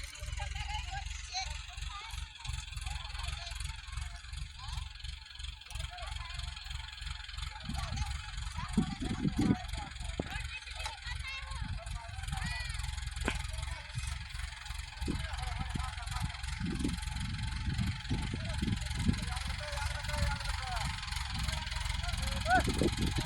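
A tractor engine idles and revs in a low rumble while the tractor is stuck on a bund at the edge of a wet sugarcane field, with people talking over the steady drone throughout.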